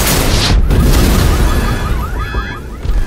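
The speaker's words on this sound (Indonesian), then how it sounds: "Dan akhirnya kantor polisi pun meledak dan korban pun berjatuhan." Explosion of a police station in a film, heard as a loud, continuous rumbling roar with crackling bursts, over which a wailing siren-like tone rises late, all dense and close.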